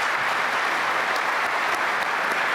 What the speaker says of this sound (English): So can I please ask you to give her one more round of applause?